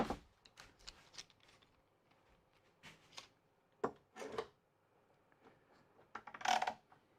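Small click clamps being fitted onto a wooden workpiece, a scattered series of sharp plastic clicks and ratcheting snaps, close and fairly loud, with light handling knocks between them.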